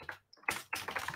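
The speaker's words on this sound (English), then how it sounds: "I said I was going to do minimal typing, and then I go and type." Fast computer keyboard typing while a Notion workspace is set up, a brief burst of key clicks, a pause, then a denser run of rapid clattering keystrokes, close and fairly quiet with no talking.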